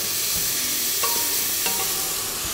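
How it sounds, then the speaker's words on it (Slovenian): Ingredients for a Slovenian Pohorje pot stew are stirred in oil in a pot. A spoon scrapes and clinks through a constant close sizzle of frying. "Lahko še dolijemo kanček olja ter mešamo, da se nam ne prijema na površino."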